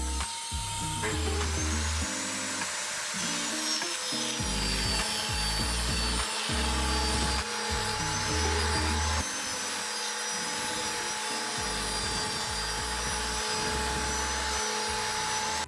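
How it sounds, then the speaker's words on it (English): Miter saw and table saw cutting wood boards for a DIY planter, a steady loud whining motor with repeated chopping cuts through the timber, close and continuous without talk. "So let me go over to the miter saw and to the table saw and get that cut down."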